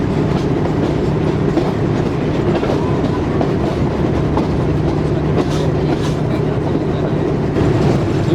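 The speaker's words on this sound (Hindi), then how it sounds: "लूप लाइन पर आ गई है ट्रेन हमारी," A passenger train rolls along the track on a loop line after changing tracks, a steady loud rumble with faint clickety-clack from the wheels, continuous and close, with no talk.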